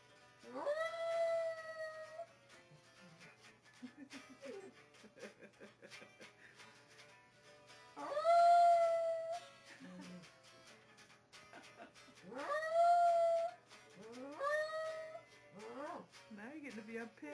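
A dog howls in long, rising, song-like wails, repeated several times, with a person's voice talking in the gaps between howls.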